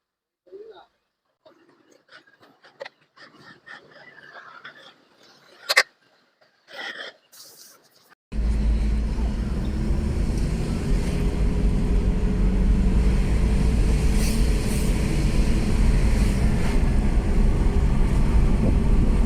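A Ford Everest SUV, back on the road after standing unused for over a year and being repaired, starts out quietly with a few faint clicks, then breaks into a steady, loud engine and road drone.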